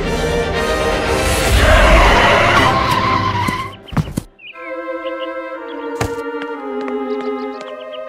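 Car brakes hard with a long, loud tire screech and skid, ending in a thud, then cuts to quieter scene with tonal music and clicks.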